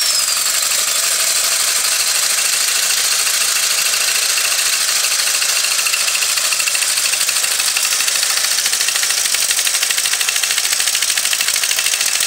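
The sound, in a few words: small engine running, flywheel hitting the guard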